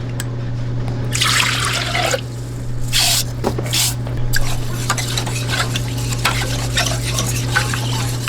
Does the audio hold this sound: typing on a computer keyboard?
no